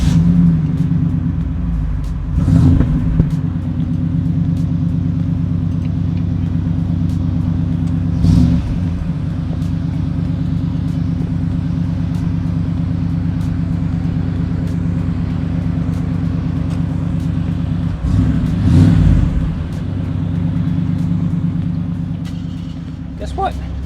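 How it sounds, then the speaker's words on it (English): A 1987 Chevrolet Camaro IROC-Z engine idles with a deep, steady rumble close by, with a few brief revs rising over it and voices talking now and then. "Let's start it up."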